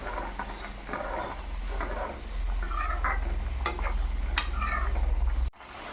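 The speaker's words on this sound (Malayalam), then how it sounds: "കുറച്ച് ചിക്കൻ മസാലയും കൂടി ചേർത്ത് നന്നായി ഇളക്കിയെടുക്കുക." Egg curry with chicken masala gets stirred in a pan, a steady sizzle with soft scraping and clinking of the spoon against the pan, close and continuous until a sudden stop near the end.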